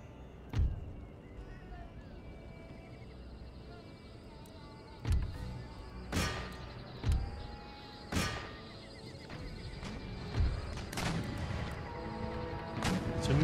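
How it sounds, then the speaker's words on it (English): Cannon fire from Empire: Total War artillery loading shrapnel and round shot, heavy booms spaced irregularly, some distant and some close, over a steady battlefield murmur, with a voice talking throughout. "Mixture of shrapnel shot and round shot."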